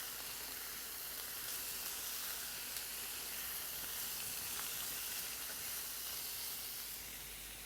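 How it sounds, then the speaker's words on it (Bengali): Capsicum frying in a pan, with a steady close hiss and sizzle of oil running unbroken and alone throughout. "ক্যাপসিকাম সব দিয়ে আমি একটু ভেজে নেবো"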